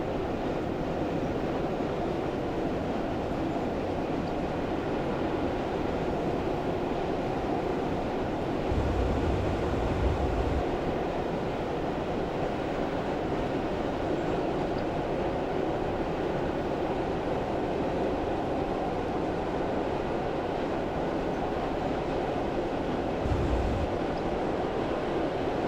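Class 117 diesel multiple unit rolling downhill between Radstock and Frome Market in Train Simulator 2016, a steady close rumble of engine and wheels on rails throughout, with brief deeper low thumps midway and near the end.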